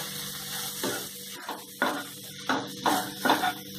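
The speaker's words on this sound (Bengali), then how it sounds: "মশলাটা কষে নিচ্ছি।" Ground spices (Kashmiri chilli powder, cumin powder, turmeric) being stir-fried in a pan for egg devil, a soft steady sizzle with intermittent scraping stirs.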